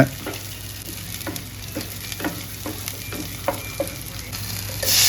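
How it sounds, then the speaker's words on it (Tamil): Fennel seeds, chopped onions and green chili sizzle steadily in oil in a pan for a goat intestine curry, with a spatula knocking and scraping in regular strokes over the constant fry. "ஒரு நாலு வெங்காயத்தை கட் பண்ணி போட்டு ஒரு ரெண்டு திருப்பு திருப்பிடலாங்க"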